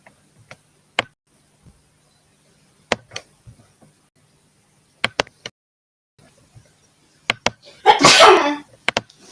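A single loud sneeze near the end, preceded by scattered faint clicks and ticks in an otherwise quiet room.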